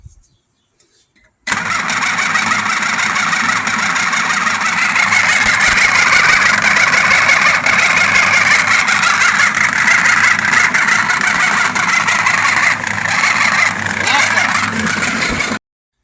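The starter cranks an IH 5288 tractor engine during an engine swap. A stuck solenoid keeps it spinning in a loud, steady whirring drone that starts abruptly and runs for over ten seconds before cutting off.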